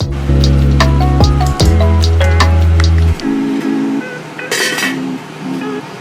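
Beef stew is poured from a small pot into a bigger one, with loud ringing metallic clanks and scrapes of pot against pot, then lighter clinks and sloshing as the transfer finishes.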